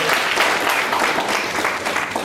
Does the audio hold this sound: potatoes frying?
no